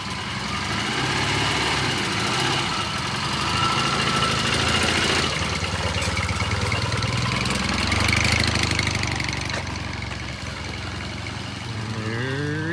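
A 1978 Triumph motorcycle engine on a test ride, rumbling steadily and fairly loud for the whole stretch, with its pitch rising and falling as it pulls away in first gear, and no voices over it.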